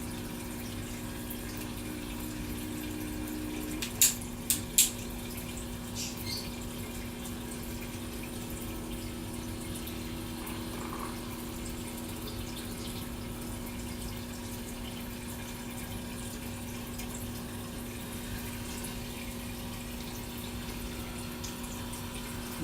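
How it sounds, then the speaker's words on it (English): Steady running water streams continuously into a tank at moderate level, with a faint constant hum underneath and a few sharp clinks early on. "Get the water flowing in there."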